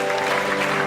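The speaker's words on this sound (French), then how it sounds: "On applaudit chaudement le serviteur de Dieu." A church congregation applauds warmly for a preacher, a short burst of dense clapping with a sustained tonal hum or music underneath.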